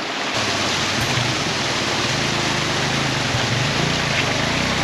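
Water flowing across a rough mountain track in Kaghan, a steady loud rushing wash that fills the whole stretch, with a low vehicle rumble beneath it.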